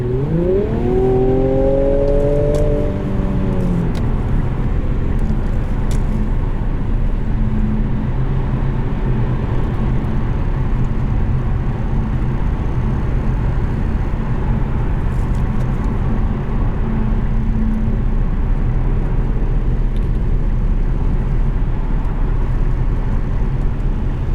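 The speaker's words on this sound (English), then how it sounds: "Put it into drive to demonstrate kickdown if you want to make a pass." 2019 Infiniti Q60S Red Sport 400 under kickdown, the engine note climbing steeply as the transmission drops a gear, then settling into a loud, sustained roar and road rumble from inside the cabin, with no talk.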